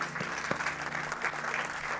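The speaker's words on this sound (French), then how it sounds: "Merci Marie, on peut l'applaudir." A congregation applauds during a French-language church service, a dense, even wash of clapping from many hands filling the room for a couple of seconds.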